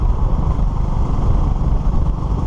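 A Honda CB250RS motorcycle rides along a narrow country lane, its engine giving a continuous loud rumbling drone close up, steady throughout with rushing wind noise.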